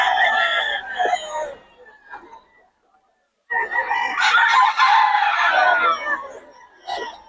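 A Golden Boy Sweater bloodline gamecock crows loudly and close, two drawn-out crows separated by a short pause, with a few clucks between.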